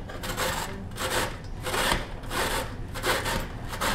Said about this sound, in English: I'll give you the grater while I use the knife and slice up a few apples here.